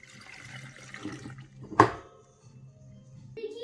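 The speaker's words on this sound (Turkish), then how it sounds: "Şimdi suyumuzu ilave ediyoruz bu şekilde." Water poured into a jar of Black Sea–style bean pickle: a faint, close trickle with a brief louder splash partway through, then quiet, with no talking.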